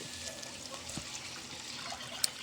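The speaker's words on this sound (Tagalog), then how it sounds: "Nag-add din po ako dyan ng isang basong tubig." Water poured from a glass into a pan of sweet and sour sauce made with tomato paste, a faint, steady trickling splash at low volume with no talking.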